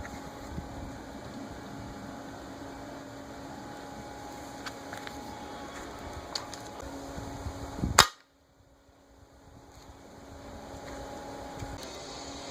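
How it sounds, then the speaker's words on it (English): A Gamo Swarm Maxxim .22 break-barrel pellet gun fires once through a backyard fence board, a single sharp loud crack after a steady low background hum, followed by sudden near silence. "Let's step it up to a break barrel 22 and see what happens."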